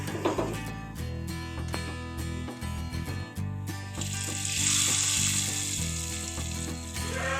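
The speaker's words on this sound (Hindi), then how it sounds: "अब हम दाल में भगार कर देंगे।" A garlic, cumin and chili-powder tempering is poured into mung bean dal, setting off a loud, sustained hiss that erupts midway over soft background music.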